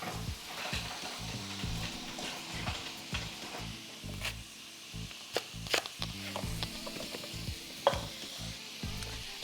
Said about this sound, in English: what we want with the sausage is we really do want it to get nice and browned.